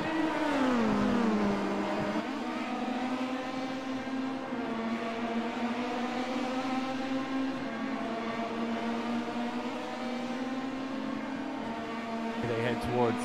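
Pro Mazda race cars racing at the Zolder circuit. Engines whine loudly and steadily, with pitch shifts as the cars rev and shift gears, while a commentator talks over the noise.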